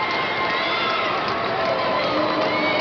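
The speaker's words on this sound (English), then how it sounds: "Good crowd here at Williams Arena too." Crowd at a high school girls basketball game in Williams Arena, a steady roar of many voices with shuffling and shouting that stays loud and constant, with a commentator faintly mixed in.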